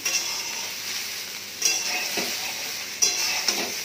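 Ridge gourd and hard mixed vegetables fry in a pan. A bright, continuous sizzle runs throughout, and louder stirring scrapes land near 1.6 and 3 seconds with a light clink of utensil on pan.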